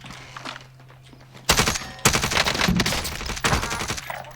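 Loud automatic gunfire from Call of Duty: Warzone, dense bursts of rapid shots starting abruptly and continuing in clusters, after a quieter stretch of faint game ambience.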